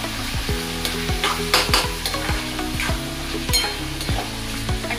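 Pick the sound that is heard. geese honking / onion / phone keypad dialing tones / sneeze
onion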